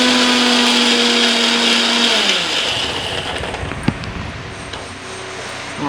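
A mixer grinder blending ivy gourd chutney whirs loudly and steadily, its pitch dropping as the motor winds down, ending in a rumble and a light clunk, close up with no talk.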